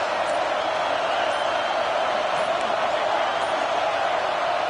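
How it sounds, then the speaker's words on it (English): A stadium crowd roars steadily in a college football video game, Auburn's home fans bringing the noise during a timeout: a dense, loud, unbroken wash of cheering that holds level from start to finish. "This crowd ready to make its presence known."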